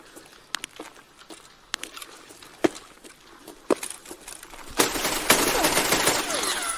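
Video game gunfire: scattered sharp single shots with footsteps and movement in between, then a loud sustained burst of rapid automatic fire near the end.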